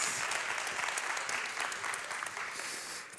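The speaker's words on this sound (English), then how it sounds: "Please give him a round of applause." An audience applauds to welcome DeRay McKesson onstage, steady dense clapping that fills the room for a few seconds and fades slightly at the end.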